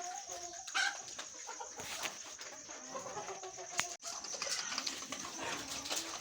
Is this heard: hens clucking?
yes